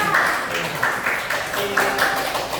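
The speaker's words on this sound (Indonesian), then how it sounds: "beri tepuk tangan dulu untuk Dika." A classroom group clapping together in a steady, continuous wash of applause, fairly close, with some voices mixed underneath.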